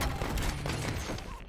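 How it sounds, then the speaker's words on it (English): Gunfire from the Warzone video game, a sustained stretch of rapid, overlapping shots and rumbling booms at a distant to mid range, dense and continuous with no voices over it. "I heard gunfire."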